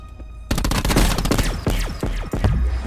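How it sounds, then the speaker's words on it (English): A ray gun fires in the Call of Duty Blackout video game: after half a second of near silence, a loud, dense volley of rapid repeated blasts and booms rolls on close up for the rest of the moment. "Oh my god, he's got a ray gun."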